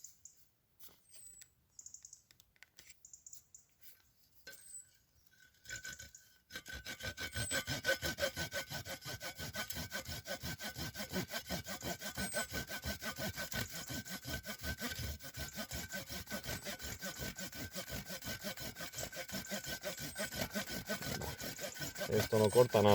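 A small wooden stick being cut with the saw edge of a Decathlon folding shovel: after a quiet start, steady close back-and-forth rasping strokes run continuously and grow slightly louder, with faint birdsong in the background.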